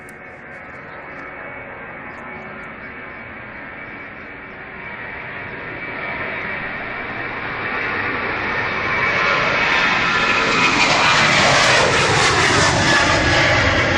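A Ryanair jet airliner rolls at Manchester Airport, its engine roar broadband and steady, swelling louder over the final seconds as it draws nearer.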